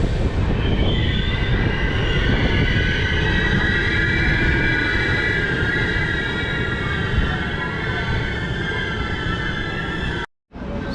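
A Jalandhar Intercity passenger train departs Meerut Cantt station, rolling steadily with a heavy rumble and faint metallic squeal, continuous and close, before a brief cut near the end.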